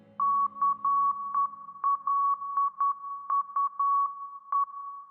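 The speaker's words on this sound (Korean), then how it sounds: "검은 화면과 함께 멤버마다 다른 모스 부호가 나옵니다" Morse code beeps closing a TXT (Tomorrow X Together) debut trailer over a black screen: a steady mid-pitched electronic tone broken by rhythmic bursts of dots and dashes, clear and alone with no voices.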